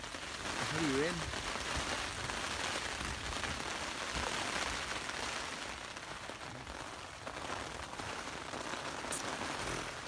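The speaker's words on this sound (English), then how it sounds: "I hear you rain." Steady rain patters continuously in the background, with a voice speaking briefly over it.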